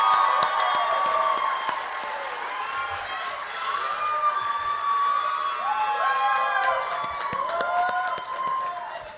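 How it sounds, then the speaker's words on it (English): Crowd applause and cheering at a graduate school commencement for Master of Science graduates: sustained clapping with whoops and shouts from a large audience, steady throughout. "Have a round of applause, please, for our Master of Science in Human Genetics and Genomic Data Analytics graduates"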